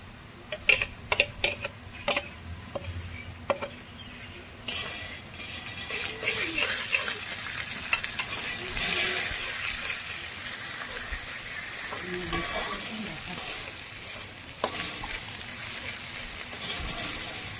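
Onions sizzle in hot oil in a pan while a spoon stirs and scrapes them, a steady close frying hiss broken by sharp clinks and scrapes, with no talking.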